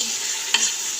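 Beef frying on high heat in a karahi makes a bright, steady sizzle with one quick utensil scrape in the middle, brief and fairly loud.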